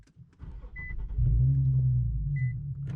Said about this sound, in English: there's the catback exhaust I was talking about. It's got a little bit of noise to it.